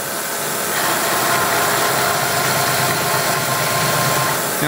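A rotary broach cuts a partial hole on a Wilton Baby Bullet drill press, producing a loud, steady machine drone and grinding hiss that holds unchanged throughout, with no talking.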